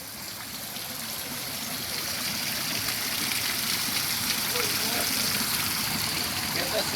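Shallow stream water flows steadily near the Dennery waterfall, a continuous broad rushing wash that stays even and close throughout, with no clear talk over it.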